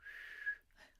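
A person whistles a single sharp, sustained note in imitation of wind whistling from the south, then a brief fainter second whistle, close and quiet with no talk.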